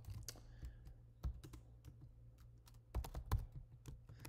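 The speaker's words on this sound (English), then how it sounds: "Sorry, I was having a hard time typing and talking." Typing on a computer keyboard, with irregular quiet clicks and clusters of sharper keystrokes over about four seconds, close and alone without talk.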